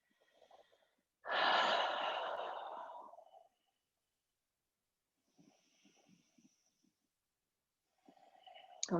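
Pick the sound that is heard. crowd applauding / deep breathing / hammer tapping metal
deep breathing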